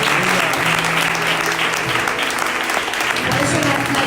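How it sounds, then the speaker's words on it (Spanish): Church congregation at a prophetic night service claps loudly and steadily for several seconds, with low sustained musical tones and some voices beneath the dense clapping. "Levantad un aplauso al Señor."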